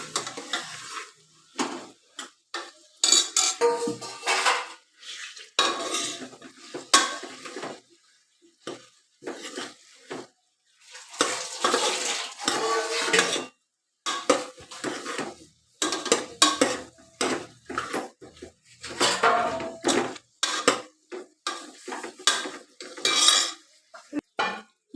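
Onion and eggplant slices being stirred in a frying pan: a utensil scrapes and clatters against the pan in repeated close bursts with short pauses, over a faint sizzle, with no talking.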